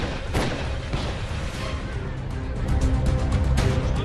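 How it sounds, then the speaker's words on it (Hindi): Gunfire rattles amid bomb blasts in a violent clash at a polling booth in Cooch Behar, sharp bursts and booms crowding a dense, steady roar of chaotic noise with possible voices mixed in. "गोलियों की तड़तड़ाहट"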